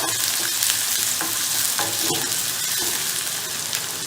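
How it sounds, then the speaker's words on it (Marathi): Finely chopped onion fries with cumin and mustard seeds in a pan, a close continuous sizzle broken by several scraping stirs of a spoon against the metal, with no voices. "बारीक चिरलेला कांदा एक. हे छान आपण परतून घेऊया."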